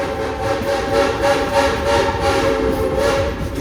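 A Silver Dollar City excursion train rumbles steadily along the rails with a continuous mechanical roar and faint rhythmic pulsing, close and fairly loud.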